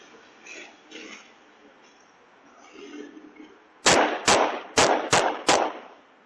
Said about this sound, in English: multiple gunshots are heard.